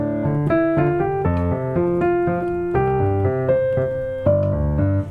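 Solo piano playing a line from a piece, steady chords in both hands with a moving left-hand part, clear and close at a moderate, even pace with no voices.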